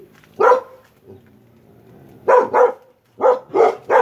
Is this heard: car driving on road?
no